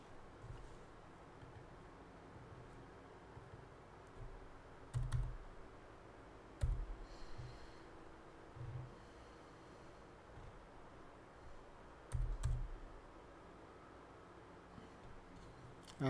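A computer keyboard is tapped in a few sparse, separate bursts of keystrokes over a quiet room hum, close and soft.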